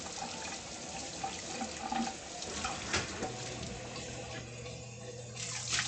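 Running tap water pours into a kitchen sink while something is rinsed under it, a steady close splashing stream with a few clunks, no talk.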